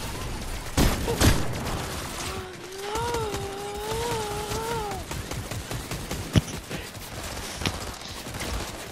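Shotgun blasts in a fast-paced multiplayer shooter video game: a few sharp, heavy shots spaced several seconds apart over busy game noise, with a brief sustained tonal sound in the middle.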